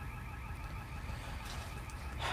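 A warbling car alarm blares continuously from some distance, its repeating electronic pulses steady throughout, with a brief rustle near the end.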